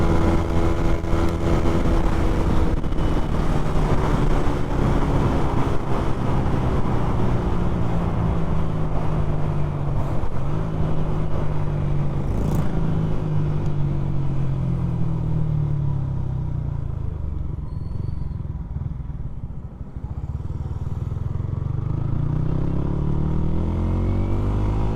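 A Yamaha Sniper 155R motorcycle with a Replica Pro aftermarket exhaust pipe revs and drones loudly with a throaty exhaust, pitch sweeping down as it slows, then rising again; no talking.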